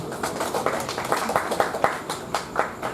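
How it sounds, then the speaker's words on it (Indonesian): An audience at a youth seminar claps, a steady patter of many hands for a few seconds, with a faint voice underneath. "Tepuk tangan semuanya untuk kita semua."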